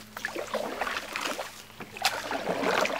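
Canoe or kayak paddled on the Weeki Wachee river, soft splashes and drips of paddle strokes in the water close by, fairly quiet, with a faint low hum underneath and no speech.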